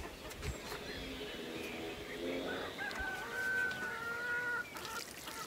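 Hens cluck steadily in a garden, with a rooster's crow rising partway through over constant outdoor background noise.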